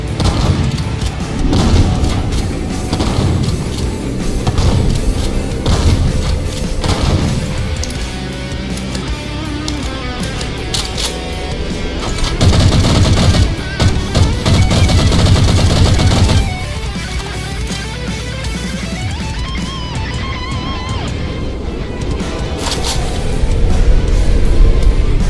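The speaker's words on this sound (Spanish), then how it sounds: "Ahí está lo que les prometí, el cañón de combustión" Fuel rod cannon shots in the Halo CE game on a snowy Halo 4 style map come as loud, repeated booming blasts in dense bursts with rattling gunfire, roughly continuous and near, with no talk.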